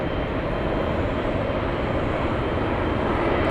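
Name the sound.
Japan Airlines Boeing 787 on final approach at LAX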